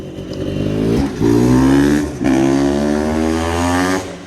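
A super-tuned 2023 GasGas 500 BRC motorcycle engine catches and revs hard in a close, loud burst, dips briefly, then roars up again before easing off.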